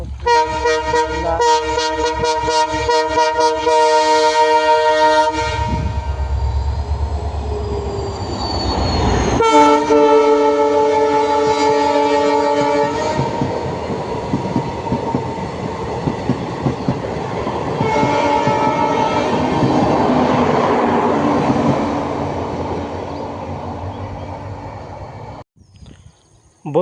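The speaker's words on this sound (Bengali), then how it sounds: "এটা আসলে ট্রেন মানে আপনার ইঞ্জিন বলতে পারি" A train locomotive passes through Silapathar railway station in Dhemaji district, sounding loud sustained horn blasts near the start and again midway, with rumbling and clattering wheels between and the noise fading out at the end.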